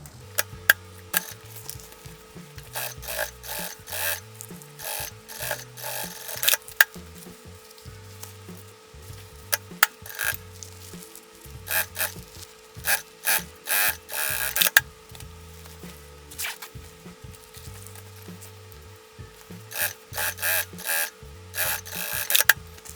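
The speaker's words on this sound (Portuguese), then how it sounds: "Daí eu vou pespontar aqui jogo a sobrinha aqui pro lado externo e o forro pro outro. Vou fazer uma costura aqui bem na borda." A sewing machine topstitches along the edge of a large zippered toiletry bag, its needle whirring in repeated short bursts with pauses between runs and steady mains hum underneath.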